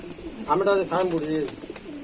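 Saharanpuri Kaldoma pigeons, long-bodied birds, coo in a short rolling burst close by, with a faint voice underneath.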